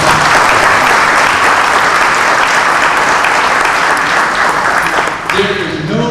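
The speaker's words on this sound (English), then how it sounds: "dads in the audience to give yourselves a big round of applause" Fathers in a school audience at a Father's Walk Day event give loud, sustained applause that fills the room, easing slightly near the end as a voice begins speaking.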